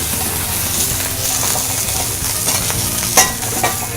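Oil sizzles and spurts steadily in a hot pan as water meets it in a busy restaurant kitchen, a continuous loud crackle with a few sharper pops near the end.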